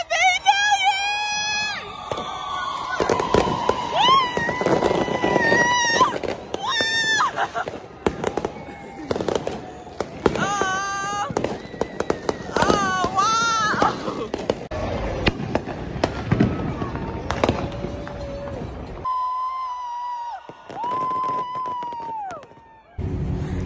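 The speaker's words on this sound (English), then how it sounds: "they had the fireworks show" A New Year's Eve fireworks show in Houston crackles and booms near and loud for over twenty seconds, with whistling rockets rising, bursts in uneven clusters, and people talking and cheering throughout.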